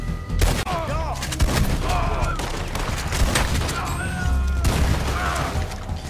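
Rapid bursts of gunfire and booming shots ring out in the Red Dead Online video game, overlapping in loud, dense volleys with brief pauses, mixed with game effects and some speech.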